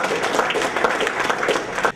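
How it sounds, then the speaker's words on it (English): Audience applause at a Ghanaian Independence Day celebration in Southampton, UK: dense, steady clapping from a room full of people that carries evenly for two seconds, then cuts off abruptly. "Can we please just do a really good applause?"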